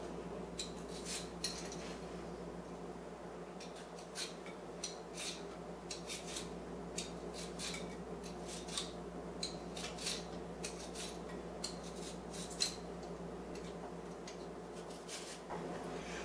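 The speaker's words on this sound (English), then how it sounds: "keep going over the same area that you had just peeled free of the skin, and make these very thin slices of Jicama" Thin slices of peeled jicama being shaved on a kitchen plate with a slicer or knife: steady soft scraping with frequent light clicks and ticks, faint and continuous with no talk.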